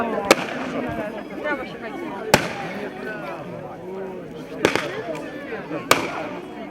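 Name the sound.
grenade explosion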